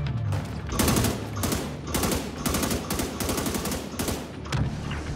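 A weapon fires in rapid bursts during a shooter game, The Division 2, with close, loud volleys repeating in quick succession throughout and no talking.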